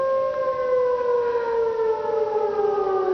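An air raid siren wails in Daejeon, South Korea: a loud, steady, multi-toned howl that slides slowly downward in pitch, with no voices.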